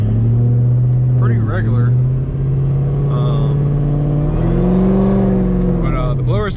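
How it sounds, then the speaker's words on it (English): A ported supercharged LSA V8 in a Pontiac G8 drones with a steady, loud low engine note that swells briefly in pitch, heard from inside the car while someone talks over it. "But the blower sounds insane"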